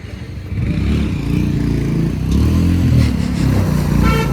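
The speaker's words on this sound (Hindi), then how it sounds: "ये जो बाइकर है भाई, क्या भगा रहा है ये?" A motorcycle races along a mountain road on the way to Pangong Tso, its engine roaring loud and steady for several seconds as it speeds by close to the listener, with no talking over it.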